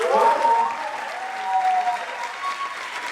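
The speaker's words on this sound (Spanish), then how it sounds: "Un fuerte aplauso" An audience at a film-school talk on special effects claps in a sustained round of applause, dense and fairly close, with a voice briefly heard over the start.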